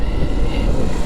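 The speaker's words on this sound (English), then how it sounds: "Heading out on my Can-Am RT Limited, my trike here." A Can-Am RT Limited three-wheeled trike runs on the road with a steady, loud low engine drone and wind rush, constant through the short stretch with no voices.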